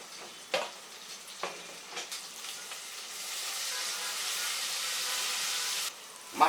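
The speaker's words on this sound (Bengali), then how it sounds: "এর মধ্যে আমি মাশরুমগুলা দিয়ে দিব, দিয়ে একটু ভেজে নিতে হবে" Mushrooms and shrimp frying in a pan for a Chinese-style chicken and vegetable tehari, giving a steady loud sizzle with a few clattering stirs early on and a brief scrape near the end.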